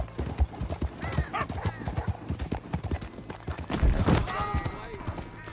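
Rhythmic horse hoof clip-clops in Red Dead Redemption 2, mixed with game sound effects and a voice talking over them, with a brief whinny-like tone.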